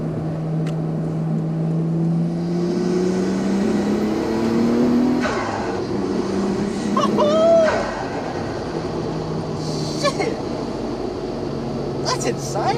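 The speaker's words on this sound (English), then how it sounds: "The turbo kicks in so quick." Nissan Skyline R34 turbo engine revving on a dyno: a steady droning engine tone that climbs and drops in pitch over several seconds, with turbo whooshes and people talking excitedly throughout.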